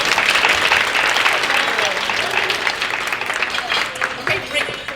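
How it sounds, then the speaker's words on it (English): A leadership conference audience applauds award winners steadily with dense, sustained clapping that tapers slightly toward the end. "can we give a round of applause for the winners"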